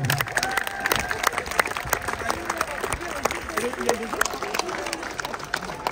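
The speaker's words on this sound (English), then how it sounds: "Can we have a big round of applause, please, for our gunner today, Stefan?" An outdoor crowd at the Saluting Battery in Valletta, Malta claps and cheers for a cannon gunner, scattered sharp claps and shouts mixing with voices of people talking.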